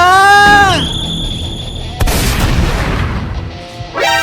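A character's arm-mounted gun fires in a video game, with a sharp boom and a burst of noise after a tonal sweep, and a voice briefly speaks at the end.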